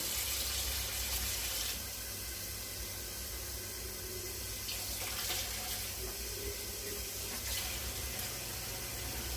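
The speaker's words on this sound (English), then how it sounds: "Need to put some more water in my tray." Steady running water from a tap pours into an oven tray for baking Puerto Rican pan sobao bread, a continuous hiss-like stream heard close and alone with no talk.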